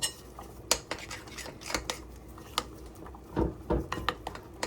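A spoon scrapes and clinks against a bowl while semolina batter is mixed with baking powder for steamed chicken-filled pitha, producing irregular metallic taps and scrapes at moderate level, with no talking.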